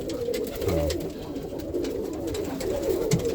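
Several roller pigeons coo softly and repeatedly in a loft, their low throaty calls overlapping against a steady background hum.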